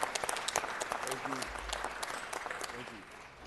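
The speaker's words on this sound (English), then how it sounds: "Let's give a round of applause for Emmy-winning performer Glenn Turman." Scattered, fairly quiet clapping at a city council meeting greets a performer, with a few sharp claps early and voices talking over the thinning applause.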